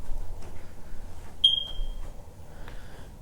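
A single short high-pitched chirp from a smoke detector with dead batteries, sounding once in a quiet master bedroom of a house, fairly clear over low room hum.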